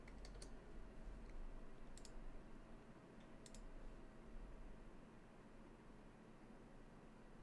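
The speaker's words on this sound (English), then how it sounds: "Let's type it in instead." Typing on a computer keyboard, a quiet steady run of soft clicks with a few sharper clustered keystrokes over faint background hiss.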